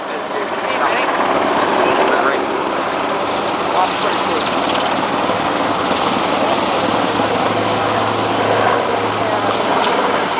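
Military aircraft approach at low level during an RAF Benson families day air display, a loud, steady rotor-like engine roar carrying over a crowd, with an announcer talking over it.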